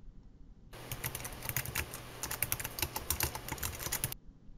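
Quick, steady keystrokes on a computer keyboard as a challenge is typed into an authentication demo wizard. The close, rapid clicking runs for about three and a half seconds with no voices.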